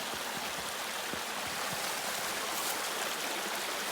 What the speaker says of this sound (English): Here's a creek. This is called Shaw Creek.